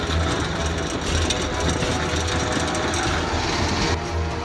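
A motorcycle ridden on a flat, wobbling tire gives a steady, close engine drone with continuous low rumble and road noise throughout, no talking.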